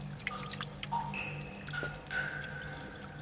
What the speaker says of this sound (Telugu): అలానే ఇక్కడ కింద రూమ్ ఉందని మనకి వాటర్ డ్రాప్లెట్ సౌండ్స్తో వినిపిస్తారు.